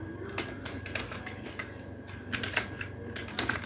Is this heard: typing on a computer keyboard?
yes